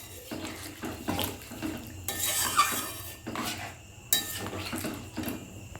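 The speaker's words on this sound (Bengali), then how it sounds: "দিয়েও আবার একটু নেড়ে দেবো, ভালো করে মিশিয়ে নেব জলটাকে।" A spoon clanks and scrapes around a pot of desi chicken with hot water added, irregular metallic knocks and stirring swishes bunched in short bursts, close and fairly loud, with no voices.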